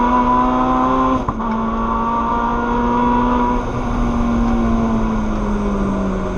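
Race cars, including a modified grey Honda Civic and an Audi TCR, scream past with a sustained high engine note that slowly drops in pitch, plus a brief sharp transient early on, loud and close.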